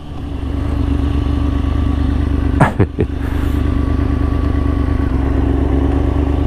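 A Kawasaki ZX-6R 636 sport motorcycle prepared for stunt riding idles steadily with a deep, throbbing rumble, briefly blipping and clattering midway before settling back to a constant loud idle.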